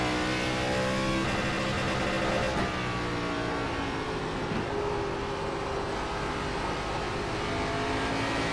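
An ARCA race car on a qualifying outlap at Nashville Fairgrounds in the iRacing sim holds a steady, moderately loud engine drone with a whining harmonic tone that shifts gently as the revs change, with no talking.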